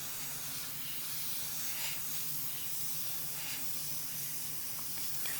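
An Iwata Revolution CR airbrush with a 0.5mm needle lays primer onto a Hasegawa Lancia 037 rally model kit, giving a steady, soft airy hiss that runs without a break, quiet and close, with a faint low hum behind it.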